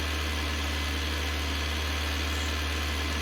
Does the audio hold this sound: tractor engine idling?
yes